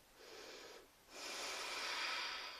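A long, slow breath in and out during a yoga-style whole-body practice, heard as two soft airy swells with a short pause between them, the second longer and louder, close and with no talking.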